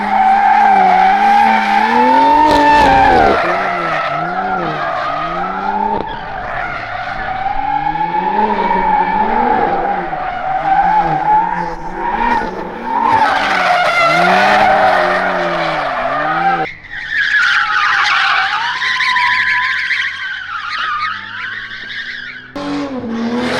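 BMW M3 at TX2K, driven hard with tires skidding: a loud, close engine roar rising and falling through gear changes, mixed with sustained tire squeal over more than twenty seconds.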